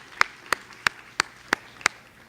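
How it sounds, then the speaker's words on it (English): Six sharp, evenly spaced claps ring out at a keynote speech, each crisp and distinct against a quiet room, more like a single person's slow rhythmic clapping than a full audience ovation. "So you can all give yourselves a round of applause because you're doing good right now, all right?"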